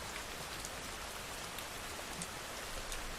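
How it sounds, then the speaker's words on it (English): Gentle rain falls steadily throughout, a soft, even hiss of drops with no voices and no breaks. "Listen to the sound of the rain gently falling in the background."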